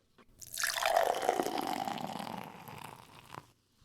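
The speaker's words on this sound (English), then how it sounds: "I'm going to pour it up." Topo Chico hard seltzer pours into a glass in one continuous fizzing stream lasting about three seconds, close and hissing, tapering off with a final splash and dribble.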